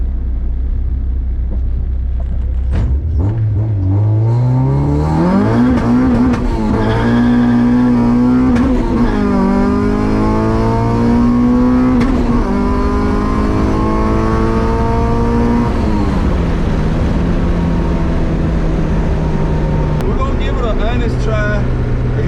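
A Honda Civic H2B streetcar engine is driven hard, revving up through the gears with rising harmonic pitch and a loud, close, sustained roar, easing off near the end.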